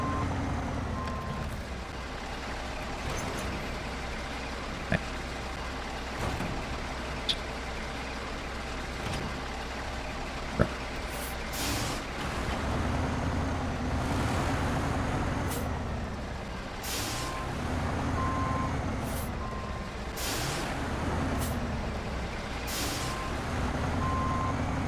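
Heavy truck reversing in the SnowRunner off-road driving game, engine rumbling steadily with repeated reversing beeps and several sharp hisses of air brakes, fairly distant and low, no talk.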